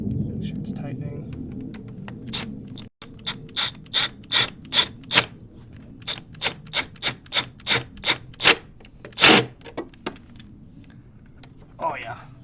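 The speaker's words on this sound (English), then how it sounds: "we're going to start with tightening the one first clamp" A ratcheting tool tightens a hose clamp on a charge pipe at a car's throttle body, a series of sharp close clicking bursts in a quick irregular rhythm, with a quieter rubbing start.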